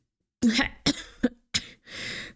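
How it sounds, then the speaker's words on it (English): A narrator voices an old tomcat's raspy coughs: three sharp hacking bursts, a fourth shorter cough, then a drawn-out wheezing breath, all close and alone. "old Tom erupted into a flurry of raspy coughs"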